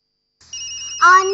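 A telephone rings at home, a sustained electronic tone that starts abruptly and holds steady, then shifts to a brighter, louder warble near the end.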